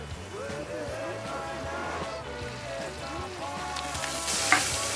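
Butter and olive oil sizzling in a pan with prawn, spring onion, leek and carrot, a steady crackling hiss throughout with people talking over it.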